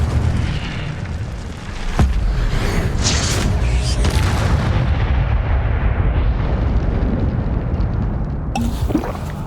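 An Incendio fire spell cast in Hogwarts Legacy, a loud, sustained roaring burst that fills the scene for several seconds before fading, with no talking.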